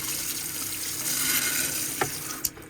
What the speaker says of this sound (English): this is back to the shower head. It's got a couple of different settings here.